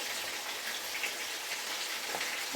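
Chicken deep frying in oil gives off a dense, even crackle and sizzle, moderately quiet and unbroken throughout, with no voices.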